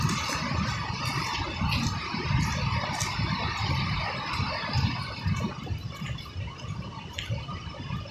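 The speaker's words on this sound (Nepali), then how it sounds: "गाडीहरू पनि कुद्दैछ एकवटा।" A vehicle drives along a mountain road near a landslide area, its engine a moderately loud, rough rumble that rises and falls over several seconds, with no talk.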